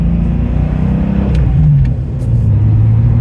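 A Porsche 993 911 Outlaw drives along with a steady, close engine drone and low rumble, the pitch shifting slightly as it rolls on, with no talking.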